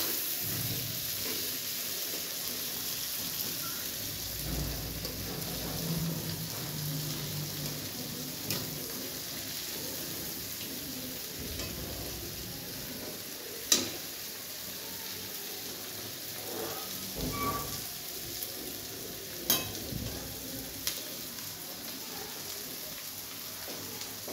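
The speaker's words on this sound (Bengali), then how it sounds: "তো আমি একটু নেড়ে দিচ্ছি পেঁয়াজটা।" Chopped onions fry in a pan and are stirred now and then, giving a steady, fairly quiet sizzling hiss with a few sharp clicks and scrapes scattered throughout.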